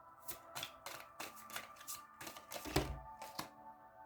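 Tarot cards are shuffled close by, a series of crisp riffling bursts roughly every half second, with a soft thump partway through.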